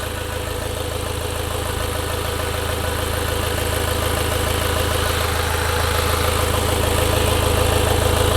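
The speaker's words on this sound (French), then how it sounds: "On laisse tourner le véhicule. Entre 30 secondes, 1 minute." A car engine idles steadily after a dose of intake-cleaning aerosol, a continuous low rumble with even mechanical vibration that holds at a constant level throughout, with no voices.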